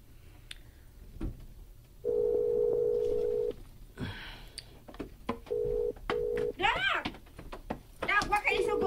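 A telephone rings in several repeated tones during a return call, with dialing beeps and other clicks mixed in, while voices talk over and between the rings.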